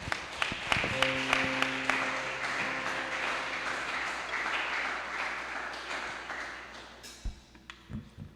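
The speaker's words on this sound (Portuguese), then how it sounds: "e as palmas louvam ao Senhor." Church congregation clapping during a live worship service, a dense sustained round of applause filling the room over steady held musical tones, fading out near the end.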